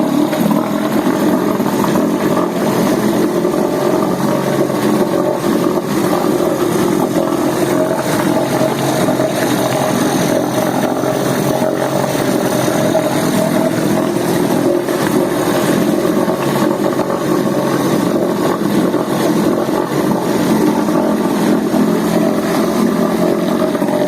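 Small Mercury 2.5 horsepower outboard motor running steadily at close range, a continuous loud droning engine note with no pauses and no talking.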